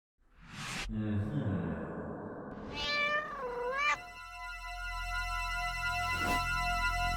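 A cat lets out several drawn-out, wavering meows, close and clear, with a soft whooshing sound early on and a sustained tonal hum afterward.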